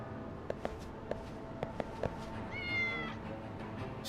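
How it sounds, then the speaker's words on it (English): A cat meows several times inside the Lost Judgment video game: short, fairly quiet calls spread across the clip, then one longer, clearer meow near the end over faint background ambience, with no talking. "Just looking at cats."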